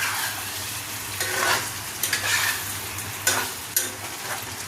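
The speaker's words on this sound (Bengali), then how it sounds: "এবার পনির দিয়ে মশলাগুলো সব গায়ে লাগানোর জন্য জাস্ট একটু নাড়াচাড়া করে দেবো" Paneer being stirred with masala in a hot pan: close, steady scraping and sizzling with a few sharper spatula knocks, no talk.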